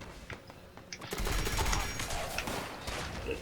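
Gunfire in Fallout 76 crackles in a dense, rapid fusillade that swells after a quieter opening with scattered shots, then carries on steadily, loud and close.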